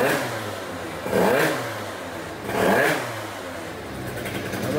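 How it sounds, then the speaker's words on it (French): A scooter engine fitted with a 28 carburetor revs on its first start, two loud rising-and-falling throttle blips over a steady idle, close to the listener. "premier démarrage avec le carburateur 28"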